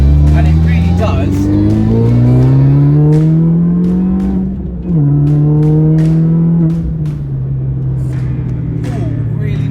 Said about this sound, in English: you can probably hear a bit of a whirring. It's because I'm on the semi-slicks